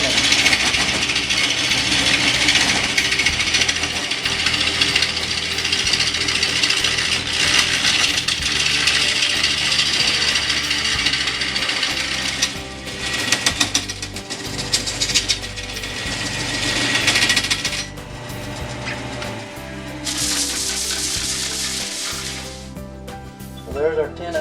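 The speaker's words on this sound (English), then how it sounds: "So I'm shaping the bottom of the bowl down to accommodate that 3/4 inch tenon." A lathe spins a mesquite bowl blank while a tool shapes its bottom into a tenon, giving a continuous loud scraping, rasping hiss that varies in intensity, with no talk.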